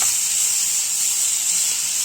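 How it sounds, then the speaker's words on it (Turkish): Lemon slices fry in a pan beside a salamut fish, cooked without oil, giving a continuous bright, hissing sizzle that stays close and steady throughout. "Şöyle limonlarımı da kızartıyorum yanında."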